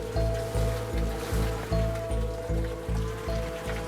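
Water and steam let out of an S160 steam locomotive make a loud, rushing, hissing gush that pulses in a steady rhythm of roughly twice a second, close by and continuous throughout.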